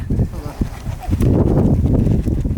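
Horse hooves clip-clop nearby with snorting and shuffling, while people talk over the sound.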